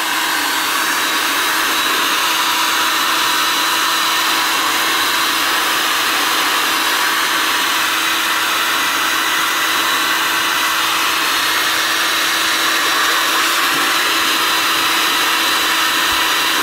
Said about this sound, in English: This is the bucket I'll be using, the heat gun, and I'll just be heating this up.